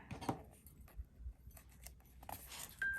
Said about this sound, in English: then I'm going to just cut this right around through here.